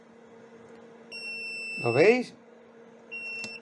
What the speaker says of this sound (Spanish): pronto empezará nuestra amiga a pitar, porque será señal de que los parámetros están bajando bruscamente